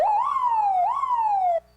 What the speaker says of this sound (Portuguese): Vou colocar para vocês que agora nós temos a nossa sirene.